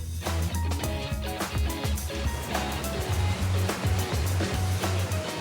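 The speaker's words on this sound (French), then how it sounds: "Jaillissant des falaises, voici le joyau de Gavarnie. La Grande Cascade." The Grande Cascade waterfall at Gavarnie in the Pyrenees pours from the cliffs, a loud, continuous rushing roar that fills the scene steadily with no voices over it.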